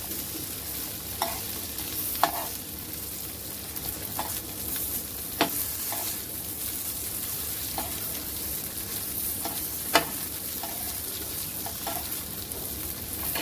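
Poha vadis, the paneer-like pieces of a poha dubuk vadi, lightly frying in a pan over a low flame. A steady soft sizzle runs throughout, broken by a few sharp spatula clicks against the pan, with no voices.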